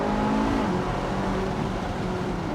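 A 9,000 RPM cross-plane crank V8 in a sports car, droning steadily up close, with a continuous engine tone and no talk over it.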